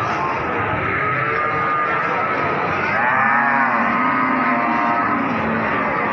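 Cattle mooing at the Wirosari livestock market in Grobogan, with several low, drawn-out moos rising over a dense, steady crowd and market din that fills the whole stretch.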